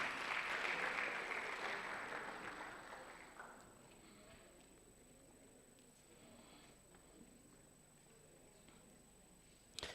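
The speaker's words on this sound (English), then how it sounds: "Please clap for them." An audience claps for a university debate team at an East African debate championship, loud at first and then fading to scattered faint claps and room noise.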